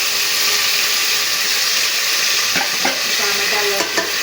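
Potatoes and onions sizzle loudly in a hot pan while cooking Gujarati masala khichdi, a steady frying hiss with a few scraping stirs of a spoon toward the end.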